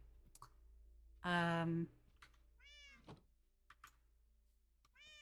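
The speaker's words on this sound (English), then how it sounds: "They're really like the kitten meow." Cats in Minecraft, one loud drawn-out meow followed by several shorter mewing calls and scattered clicks and knocks from gameplay, fairly quiet overall.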